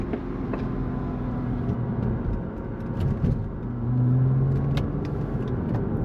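A car rolls along a road in France, heard as a steady low engine rumble and road noise with faint clicks, and a slight swell in revs near the end.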